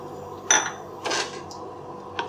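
A spoon clinks and scrapes against a pot while pumpkin simmers in coconut milk for a Thai dessert, three or four soft metallic knocks and stirs close by in a quiet kitchen.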